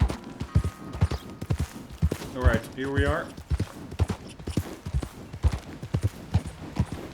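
Horse hooves in Red Dead Redemption 2, a steady clip-clop of a walking horse close by, with someone talking over it and a brief snort or whinny partway through.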